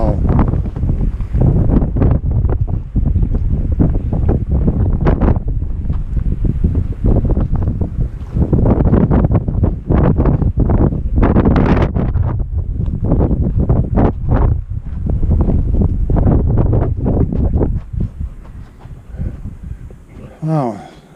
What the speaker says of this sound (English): Wow, heavy wind came up all of a sudden.